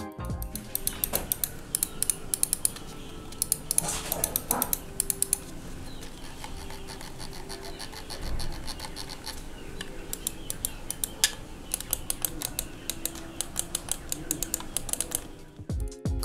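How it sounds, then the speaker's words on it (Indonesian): A Dareu A960 lightweight gaming mouse gives rapid, crisp button clicks close up, in irregular bursts and steady runs over a quiet background. "kayak apa sih suara dari tombol-tombol mouse ini, berikut ini gue tampilin footage-nya"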